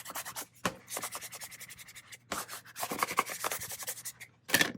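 A big scraper is rubbed over a glitter card in short, close, scratchy strokes, several bursts separated by brief pauses, with no talking.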